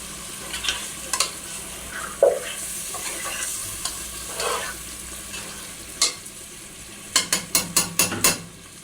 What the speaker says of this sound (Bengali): এগুলোকে একটু কষাতে হবে